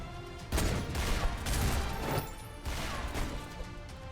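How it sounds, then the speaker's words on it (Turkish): Gunfire in a Roblox Rell Seas boss fight, heard as a run of crackling shots and crashing impacts in uneven bursts, moderately quiet with no talk. "Şimdi burada abi adam silah kullanıyor görüyorsunuz."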